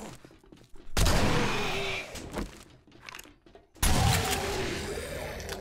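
A shotgun fires twice in the zombie survival game 7 Days to Die (Undead Legacy), two loud, close blasts about three seconds apart, each trailing off in a long rumbling tail, with faint mechanical clicks and clunks between them.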